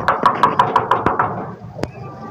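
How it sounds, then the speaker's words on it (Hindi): Someone raps on a friend's front door with a quick run of about eight sharp knocks close by, then a pause and one final louder knock, with a faint voice underneath. "अभी मैं उसका दरवाज़ा खड़काता हूँ"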